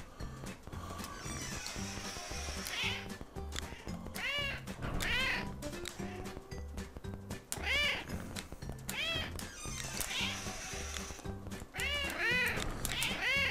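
Cartoonish cats meow repeatedly and insistently in the cat-corralling video game CatNab, overlapping calls over a steady looping game soundtrack, loud and close, with no speech.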